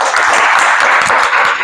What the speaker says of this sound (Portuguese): Vamos dar palmas pra eles